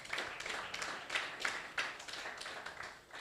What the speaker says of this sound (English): Please let's give him one more round of applause.